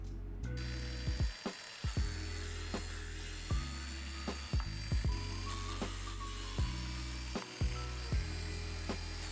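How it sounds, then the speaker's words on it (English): A biscuit joiner cutting slots in solid niangon wood, its motor whining steadily throughout, with a series of short sharp plunge cuts punctuating the hum. No talk. "we busted out the biscuit joiner"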